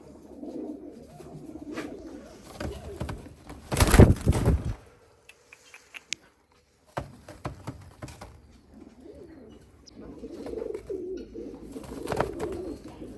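Fancy pigeon breeds, including mantled, Şam, Hünkari, Karyağdı and Modena birds, coo in low, repeated throaty rolls, with a loud burst of wing-flapping or handling near the middle and a brief quiet gap before the cooing resumes.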